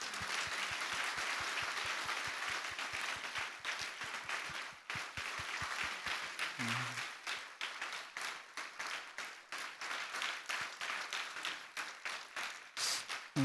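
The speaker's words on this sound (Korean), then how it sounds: "큰 박수로 축하하도록 하겠습니다." A church congregation applauds during a Sunday worship service, starting with evenly spaced, distinct claps that swell into dense, sustained applause lasting well over ten seconds.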